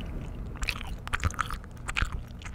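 Gum chewed close to a cupped microphone gives soft, muffled wet smacks and squishy clicks in an irregular rhythm, intimate and quiet with no talking.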